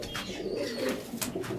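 A male pigeon of a top-knotted breed coos in a low, throaty, continuous roll, close by, with no talking.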